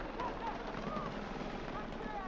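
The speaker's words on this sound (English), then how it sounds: "Enemy helicopter!" An enemy helicopter in a video game gives off a steady, droning rotor rumble that fills the whole span under a voice and game noise.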